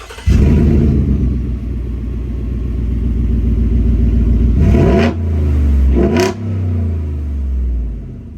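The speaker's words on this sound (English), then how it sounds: "Mandatory unbolted exhaust clip." A Ford Coyote-engined truck with its exhaust unbolted revs hard with a deep, raw exhaust roar, rising and falling through several throttle blips before settling back to a rumbling idle.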